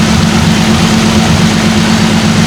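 A Nissan 370Z engine idles steadily with a loud, close, continuous low rumble that holds constant with no revving.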